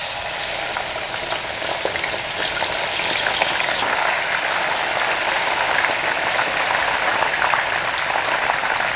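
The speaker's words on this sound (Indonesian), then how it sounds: "Jadi bawang putihnya ini digoreng duluan ya." Garlic frying in clean cooking oil for a peanut snack, a constant dense sizzle and crackle that carries on steadily without speech.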